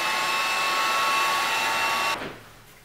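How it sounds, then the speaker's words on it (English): A heat gun blows steadily while fusing encaustic wax into a painting panel, a loud, even whirring hiss with a faint whine that runs for about two seconds, then cuts off and fades into quiet room tone. "I'm going to take the heat gun again and fuse it in very evenly"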